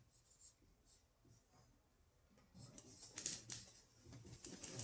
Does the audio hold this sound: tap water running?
no